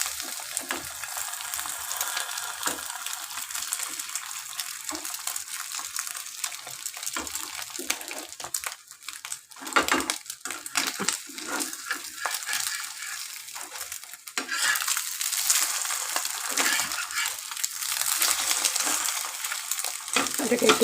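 An omelette sizzles steadily in a hot pan, a continuous close bright hiss with brief dips and swells, heard on its own.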